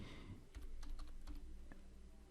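Quick, light clicking of keys as code is typed on a computer keyboard, a short soft run of keystrokes close to the microphone against faint background hiss.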